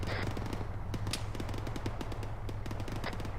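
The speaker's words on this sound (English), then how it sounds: "I got a gunfire to the east" Rapid bursts of gunfire crackle in the distance during a military training exercise, a steady rattling of shots over a low engine hum, fairly faint.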